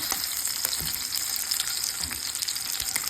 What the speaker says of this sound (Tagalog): Ayan na nga, medyo nasusunog na.